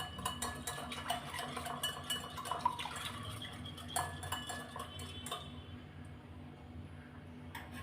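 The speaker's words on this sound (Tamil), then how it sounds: "இப்போ இதை நல்லா கலந்து விட்டுறலாம்." Chopped cashews, almonds and dried fruits tossed together in a bowl, giving a steady run of soft clinks and scraping taps from a spoon against the dish, close and fairly quiet, with no talking.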